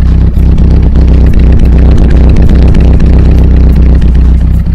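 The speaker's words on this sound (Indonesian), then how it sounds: "Itu suara knalpotnya." A 1976 Toyota Corona Deluxe with an HKS exhaust idles loudly up close, its deep rumbling exhaust pulsing in an uneven burble with a steady low hum beneath.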